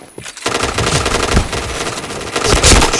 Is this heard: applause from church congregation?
no